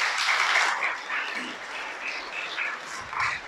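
Applause from a congregation during a Spanish-language evangelical sermon, a modest, fairly distant patter of clapping that swells and ebbs over a few seconds.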